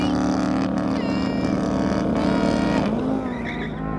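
Sports cars in a drag race, among them a Mercedes-AMG GT C, Audi R8 with quattro all-wheel drive, McLaren 570S and BMW i8, roar loudly and steadily under hard acceleration, the engine note holding then shifting pitch near the end.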